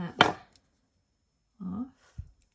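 Jewelry wire for an earring is snipped with cutters, giving a sharp close click followed by two fainter snips a moment later, alone without talk.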